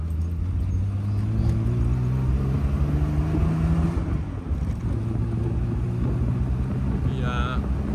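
A 1973 Triumph TR6 engine idles with a steady low drone and a pitch that slowly rises and falls as it skips from fouled spark plugs, with wind noise throughout and a brief higher tone near the end.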